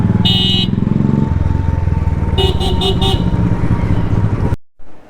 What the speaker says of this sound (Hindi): हमारे यहाँ भी काफ़ी ट्रैफिक होने लगा, देखो